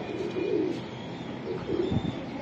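Young racing pigeons for sale coo softly in two low, throaty bursts against a steady background hum, with no voices.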